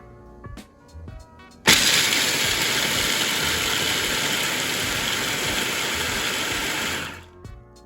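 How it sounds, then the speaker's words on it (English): Food processor switched on at low speed to chop peanuts, a sudden whirring motor with rattling nuts that runs steadily for about five seconds, then winds down and stops, with clicks before and after. "we're gonna turn our food processor on low just to get it going"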